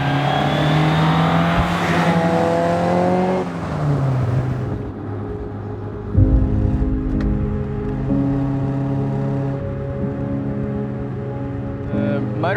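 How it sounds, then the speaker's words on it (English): A Toyota AE86 race car with a 20-valve blacktop twin cam engine revs hard and loud early on, with rising harmonic tones, then settles to a steadier, lower engine drone for the rest of the clip. "The sound of this car is being quite quiet and then just screaming"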